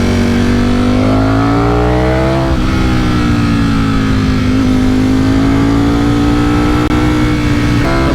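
Ducati Streetfighter V4S motorcycle accelerating on twisty mountain roads, a loud, close, continuous engine note rising and falling in pitch as the rider rolls on and off the throttle through turns, with no voices.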